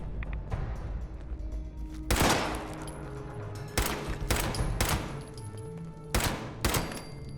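Gunfire in Fallout 76 comes in several sharp, loud bursts of rapid shots, spaced a second or so apart, each cutting through a dull background hum, with no talking.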